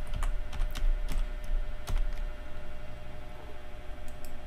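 Rapid keystrokes on a computer keyboard while entering formulas in an Excel spreadsheet: crisp, close clicks in uneven bursts with brief pauses, heard alone without speech.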